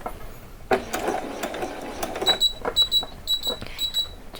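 A sewing machine stitches close to the armhole edge of a small doll saree, running in short repeated bursts with brief pauses between them, over quiet room noise.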